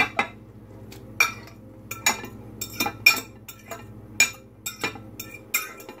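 Cucumber pressed in a jar for springtime cucumber mint lemonade, giving a run of sharp clinks and taps of utensil on glass at an uneven rhythm, close and fairly clear with no talk.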